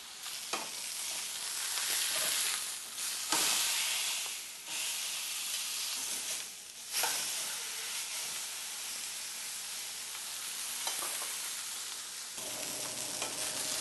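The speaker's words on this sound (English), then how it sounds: "once our pan is nice and hot, we're going to put our filet and let it brown nicely on all sides" A beef tenderloin filet sears in a hot pan, giving a loud, steady, close sizzle with a dense hiss that keeps going, dipping briefly a few times as the meat is turned, with no talking.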